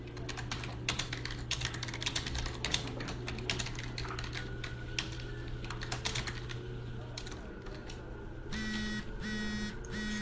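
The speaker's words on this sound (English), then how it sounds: "She's typing way faster than I do." Rapid typing on a computer keyboard, a dense run of quick close key clicks over a steady low hum, ending with a short burst of electronic beeping.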